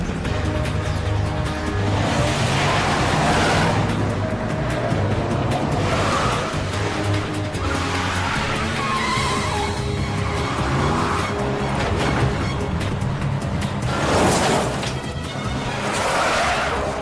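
Car engine roaring at speed with tire squeals and skidding during a chase scene in a TV series, loud and continuous with swelling bursts of engine and screech, under dramatic mixed sound.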